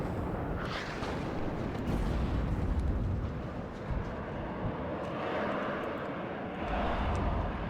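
In the Warno video game, a bomb drop sets off a loud, deep, rolling blast that rumbles on and swells again, heavy and sustained rather than a single crack.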